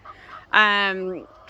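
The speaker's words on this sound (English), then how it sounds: "We have like 50 hens and 4 roosters." Hens and roosters on a homestead farm with about fifty hens and four roosters, one bird letting out a loud, drawn-out squawking call close by after softer clucking.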